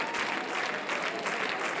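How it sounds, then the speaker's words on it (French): Brief, dense applause from a television studio audience on a French singing-competition show, cheering a departing contestant named Luc. The clapping is continuous and evenly spread, with no talking over it. "On applaudit Luc évidemment."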